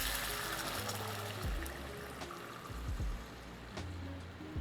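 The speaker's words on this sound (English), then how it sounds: "you can just add your water directly to the same pan" Water poured into a pan of mushrooms, a soft close trickling and splashing with a few clunks from the pan, fairly quiet and without talk.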